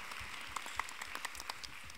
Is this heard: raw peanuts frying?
no